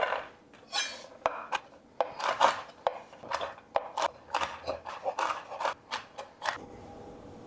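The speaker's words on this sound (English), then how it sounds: "I'm just going to rough chop through this" Quick, irregular taps of a knife rough chopping pecans on a cutting board, close and fairly quiet, with about a dozen crisp strikes in uneven bursts and no talking.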